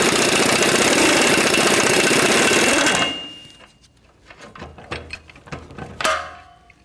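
A 21mm wrench and socket work the front bolt of a 2007-2014 Cadillac Escalade lower rear control arm: a loud, steady mechanical whir for about three seconds, then quieter, irregular ratcheting clicks and metallic taps.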